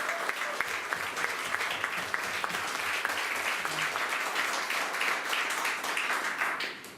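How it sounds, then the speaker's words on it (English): Large audience applauding in a club hall during a Legacy talk in Malaysia, a steady dense wash of clapping that holds for about seven seconds before tapering slightly at the end. "let's give them a big round of applause"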